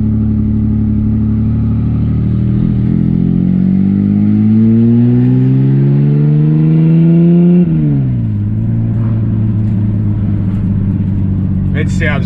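A drift car fitted with new side-exit exhaust pipes revs up loudly, its engine climbing in pitch for several seconds before dropping back to a steady idle, with small exhaust pops at the end and people talking over it.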